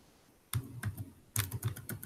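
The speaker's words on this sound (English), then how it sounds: "So now I'm just smashing Control Z" Computer keyboard keys struck in quick bursts while Control Z is pressed over and over, with clustered clicky taps after a short quiet start, close and clear with no talking.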